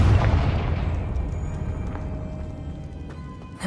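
A Confringo fire spell explodes in Hogwarts Legacy, a loud, deep boom at the start that rumbles and fades slowly over a few seconds.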